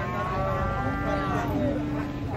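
Cattle being unloaded from a truck let out a drawn-out, loud moo that carries over a steady low rumble of background noise.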